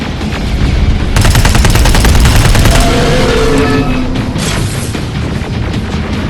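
Loud, dense volleys of rapid automatic gunfire with heavy booming explosions during a firefight in Terminator Resistance Enhanced Edition on PS5, sustained almost without pause across the whole stretch.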